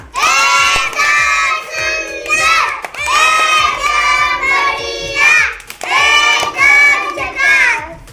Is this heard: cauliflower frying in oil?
no